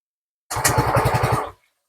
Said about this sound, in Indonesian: Kemudian kita hidupkan, apakah motor bisa hidup?